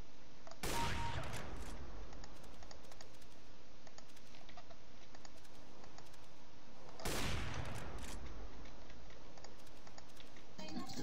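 Gunfire in the shooter game CS:GO: two sharp, loud bursts several seconds apart over a low, steady background.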